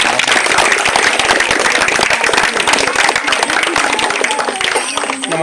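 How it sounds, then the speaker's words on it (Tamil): Audience at a residents' welfare society prize distribution breaking into sustained, loud applause, many hands clapping steadily and close for several seconds. "சாருக்கு ஒரு கைத்தட்டல் கொடுங்க."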